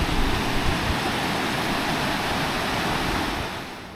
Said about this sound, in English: Look at how wild this river is.